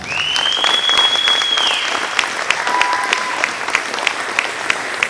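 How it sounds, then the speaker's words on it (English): Parents at a school winter band concert give steady, dense applause that fills the room from start to finish, with a few sharper claps standing out and a brief whistle-like tone early on. "Give yourselves a round of applause"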